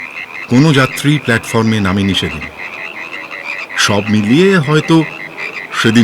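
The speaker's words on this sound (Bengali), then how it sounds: "চারিদিকে কোলা ব্যাঙ আর ঝিঝির ডাক ছাড়া কিছুই শোনা যাচ্ছে না।" Bullfrogs croak loudly and close in repeated bursts at night, with a steady high chirp of crickets behind, while a voice narrates over them.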